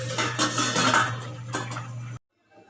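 Lid set back on a pot of milkfish steaming: a continuous low hum of steam and cooking, with clattering metal clinks of the lid, close by, then it cuts to near silence.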